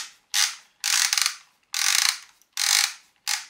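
A repaired Arri CF20 camera film magazine mechanism being turned by hand, giving five loud ratcheting bursts of rapid clicks, each lasting about half a second with short pauses between, close and alone.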